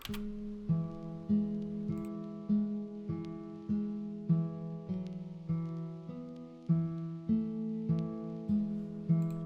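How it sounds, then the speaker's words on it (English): Nylon-string acoustic guitar from the Pick Nylon plugin on its Songwriter preset, playing a soft, steady pattern of plucked chords, each note ringing briefly before the next, alone and up close in a dreamy lofi beat. "for the final instrument, I'm using an acoustic guitar"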